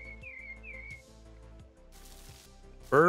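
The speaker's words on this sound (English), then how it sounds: "I hear the bird." Bird call in Farming Simulator 22, a thin whistling chirp repeated a few times over a low machine hum, followed by a loud burst near the end.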